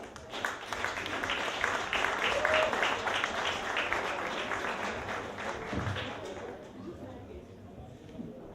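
A live audience at a northern Quebec variety show applauds Réjean J. Bouchard, a steady wash of clapping that holds for several seconds before thinning out, with talk faintly underneath.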